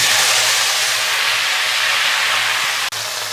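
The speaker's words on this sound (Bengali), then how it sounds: "তেলটা গরম হয়ে গেছে আমি এখন এই আলু কুমড়ো একসঙ্গেই দিয়ে দেবো" Potato and pumpkin pieces hit hot oil already tempered with chilli and cumin for kumror chokka, producing a loud, steady broadband sizzle that runs without a break, broken only by one brief clack near the end.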